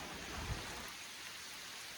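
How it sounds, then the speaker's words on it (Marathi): Steady monsoon rain patters down on farmland in Konkan in a continuous hiss, with a low rumble underneath and no voices. "आणि पावसाने पण लगेच परत सुरुवात केली आहे"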